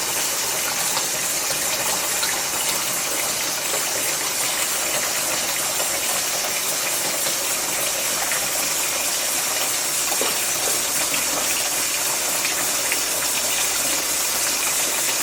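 Running water gushes steadily throughout as pineapple sage leaves are rinsed in a bowl of salted water, a continuous close splashing wash with no talking.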